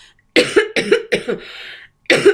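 A woman coughs in a series of four quick harsh bursts, close and loud, then falls briefly silent before one more cough begins.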